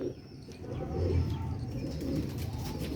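Sialkoti black-faced Sheikh pigeons cooing in a loft, soft low rolling coos repeating over a steady background murmur, moderately near, with no voices.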